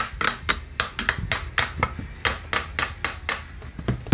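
Light, steady tapping with a hammer on a rusty bearing housing, a rapid series of sharp metallic knocks in an uneven rhythm, close and clear with no talking.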